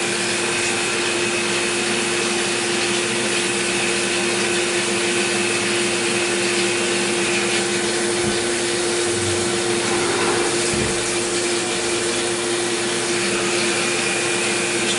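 A CNC mill cutting with a quarter-inch end mill at 4,000 RPM, 20 inches a minute, gives a continuous loud whine and hum with faint knocks and scrapes scattered through, with no talk.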